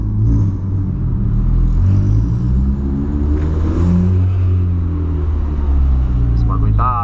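A Volkswagen Polo with a straight pipe exhaust revs inside a tunnel, its loud deep rumbling drone rising and falling in pitch and echoing off the walls, with people talking over it.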